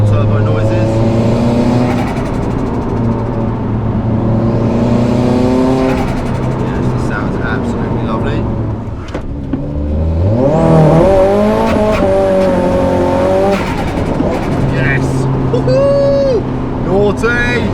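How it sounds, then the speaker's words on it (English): A turbocharged 2-litre SR20 engine in an S15 drones and revs from inside the car, with rising whines and turbo spooling as it accelerates, under people talking. "The turbo noises are literally lovely on this car."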